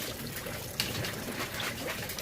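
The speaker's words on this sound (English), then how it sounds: "Where the water drips down" Water drips and trickles steadily into an aquaponics tank inside a frosty greenhouse, a faint, close, continuous babble with a few small splashes.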